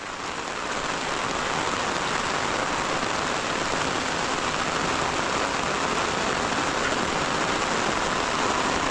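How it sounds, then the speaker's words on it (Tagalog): Heavy rain pours down in a dense, constant roar that holds steady throughout, with no voices. "Lakas ng ulan, walang hiwat."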